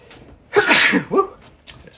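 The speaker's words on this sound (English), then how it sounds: "Sneeze." A single loud, sharp sneeze bursts out close by, followed by a brief pause and a faint sound trailing off.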